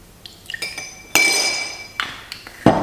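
A metal spoon clinks against a glass while apple cider vinegar with turmeric is stirred: a few light taps, then one bright ringing strike that fades slowly, followed by more scattered clinks, close and clear with no talk.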